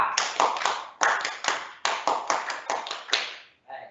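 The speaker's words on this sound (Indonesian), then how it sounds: "kita tepuk pramuka bareng-bareng" A Scout group claps in a sharp, patterned rhythm, bursts of quick claps separated by brief pauses, loud and close, ending with a softer final clap.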